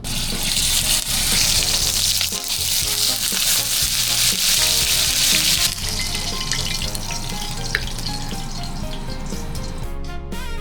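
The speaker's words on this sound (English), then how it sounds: "Flashed seared tuna belly and eggs for breakfast." Tuna belly and eggs searing in a hot pan, loud continuous sizzling and spitting that eases slightly partway through, with a brief clink near the end and no speech.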